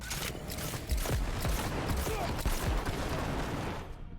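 Missile launcher in Cyberpunk 2077: Phantom Liberty fires a string of rapid, punchy blasts with thudding low impacts, layered over busy combat noise, with a voice speaking over the action.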